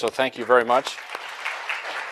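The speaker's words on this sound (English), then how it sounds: "Round of applause for you who have made the effort" After a brief spoken thank-you, a graduate student orientation audience at Stanford University breaks into soft, scattered applause that fills the rest of the moment at a moderate distance.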